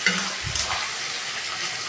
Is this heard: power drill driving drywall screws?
no